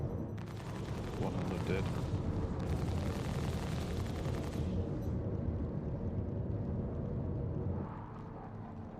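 Ship weapons fire in the space game Star Citizen, apparently from an MSR ship: a dense, sustained roar of rapid blasts that drops away near the end, with players talking over it.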